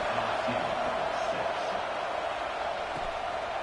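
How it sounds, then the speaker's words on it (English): A football stadium crowd at an LSU game buzzes steadily in a continuous, fairly loud wash of voices just before a kickoff, with no clear individual speech or cheers rising out of it. "this crowd is buzzing after that last score"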